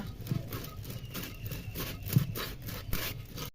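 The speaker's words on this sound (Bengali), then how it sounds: "এই দশ মিনিট ধরে নাড়তে হয় এই চাল" Raw rice being stirred in a pan over a clay stove while puffed rice is prepared, giving a steady scraping, rubbing rustle with soft periodic strokes, fairly close and continuous with no talk.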